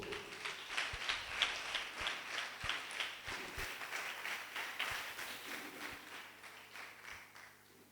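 Scattered, fairly quiet applause from a small group at a French spelling competition between two classes, uneven claps with a few louder taps standing out, no talking.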